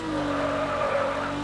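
Rear-wheel-drive car in the Madout2 video game drifting with a steady engine drone and continuous tire skid noise held loud and close throughout.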